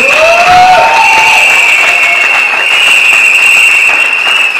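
Church congregation at a wedding applauding and cheering together, a dense steady wash of clapping and shouting voices with a sustained high whistle or sung note running through it, loud and close throughout.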